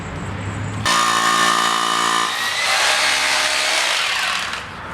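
A power drill bores anchor holes into concrete for a metal storage shed, a loud steady whine that shifts pitch partway through and runs for several seconds with no talking.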